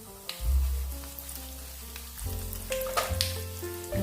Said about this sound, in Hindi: सभी मसाले को हम इसमें डाल देंगे। अभी यानी तड़का लगाएंगे।